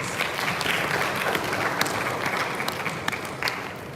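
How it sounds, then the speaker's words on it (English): A conference audience applauds a retail panelist as she is introduced, with steady, moderately loud clapping in a hall that keeps an even level throughout. "Round of applause for her, please."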